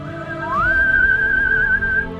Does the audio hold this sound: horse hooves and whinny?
no